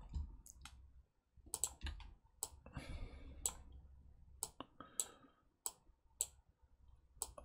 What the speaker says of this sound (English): press the Control key, left mouse click